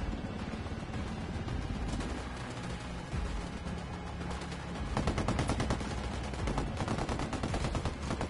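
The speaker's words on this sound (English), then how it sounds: "I called the rebels for mortar fire." Mortar fire in the Ghost Recon Wildlands video game: dense, continuous rattling gunfire and booming blasts keep up without a break, and they grow louder and heavier partway through.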